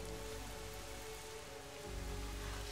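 Rain falling steadily in the game Lara Croft and the Temple of Osiris, a faint continuous hiss over a low hum, even and unbroken with no voices.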